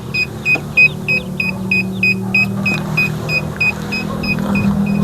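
Short parking sensor beeps repeating at a quickening pace as an object gets closer behind a tuk-tuk, over a low, steady hum, with no voices.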